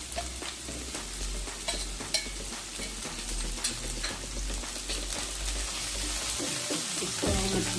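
Green chilli and garlic paste fry in a pan for aloo sabzi with a continuous crackling sizzle, dotted with frequent sharp spatters and occasional stirring scrapes, close and steady throughout, with a low hum underneath.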